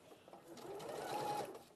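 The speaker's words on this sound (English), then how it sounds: "You've got a different sewing machine this hour." A sewing machine runs in a steady low whir during a live sewing session, stitching rectangle-shaped fabric pieces together, quiet and continuous with a faint rising tone near the end.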